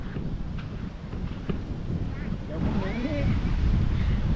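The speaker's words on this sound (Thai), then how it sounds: "อาจสิได้ยิน เสียงลมในเด้อเพราะว่ามันลมเนาะ" Wind blowing at the seaside buffets the microphone in a steady low rumble with surf-like hiss, while someone talks over it.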